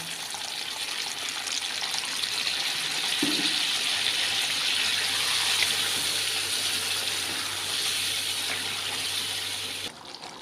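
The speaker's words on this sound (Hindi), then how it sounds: "अभी मैं इसमें थोड़ा सा गर्म पानी डाल रहा हूँ।" Hot water is poured steadily into a pot of chicken masala for several seconds, a running gush and splash that rises slightly then cuts off near the end.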